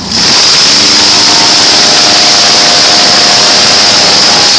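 An airboat engine roaring at full throttle, a loud, steady, continuous drone with a bright whine on top, close by and unbroken for several seconds with no voices.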